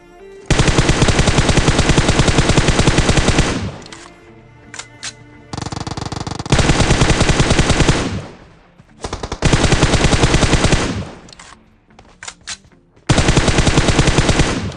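Rapid automatic gunfire in the battle royale game PUBG Mobile, with loud sustained bursts of shots separated by brief pauses and quieter stretches, repeating across the whole span.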